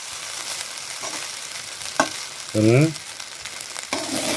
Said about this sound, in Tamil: அப்படியே பொறுமையாக கிண்டி விடுங்க